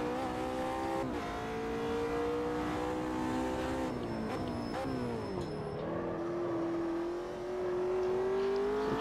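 A race car driven in the sim racing game Automobilista 2, engine whining at high revs with gear changes and pitch dips through corners, close and steady throughout.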